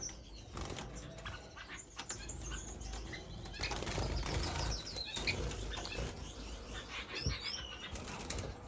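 Finches in an indoor bird room, with shaft-tails and Gouldians among them, flutter and flap their wings steadily throughout, with soft chirps and tweets scattered over a busy, moderately close background.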